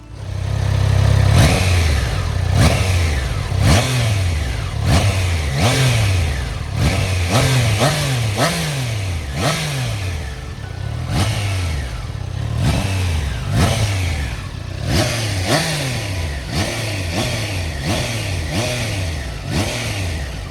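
A liquid-cooled 660 cc Triumph Trident 660 triple motorcycle revs loud and close with repeated rising and falling engine sweeps, a steady run of throttle blips and gear changes with no talking.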